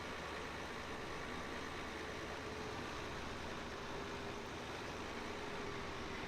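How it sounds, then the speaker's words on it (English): A loader tractor engine in Farming Simulator 17 idles as a steady, quiet low drone, unchanging throughout with no voices. "A great little loader tractor."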